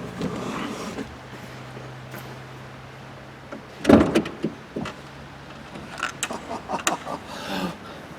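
The rear door lock motor of a 2003 Skoda Fabia hums close by for a few seconds, followed by several sharp clunks and clicks of the door latch and handle.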